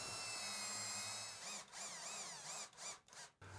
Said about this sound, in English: I run a fully threaded drywall screw through each one of these washers